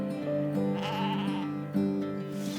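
Young lambs bleating in a farm barn: several overlapping, wavering bleats follow one another continuously, close and loud, with no talk.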